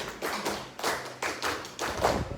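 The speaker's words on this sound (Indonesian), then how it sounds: "Tepuk 5 2 kali." Rhythmic group hand clapping in a training session, with bursts of claps in a steady pattern of five clustered beats, close and fairly loud, with no talking.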